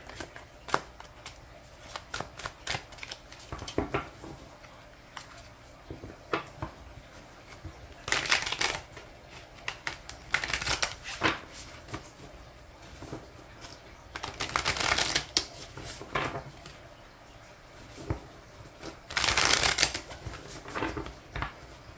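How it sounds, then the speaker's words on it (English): Repeated bursts of tarot cards being riffled and bridged, each shuffle a quick crisp flutter, with quieter handling and tapping between them, close up. "Let's get 3 more shuffles here."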